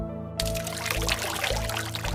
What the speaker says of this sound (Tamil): ஏதோ தண்ணி சவுண்டு கேட்குது.